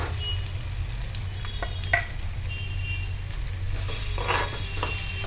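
Garlic frying in hot oil for a bombil fish recipe, a steady close sizzle with a few sharp crackles and spoon-stirring clicks, with no voices.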